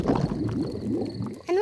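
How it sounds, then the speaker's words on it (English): A cartoon father's stomach rumbles with a low, loud, bubbling gurgle that wobbles and sweeps for over a second, then a voice begins to speak. "My tummy rumbling is one of the best sounds of nature."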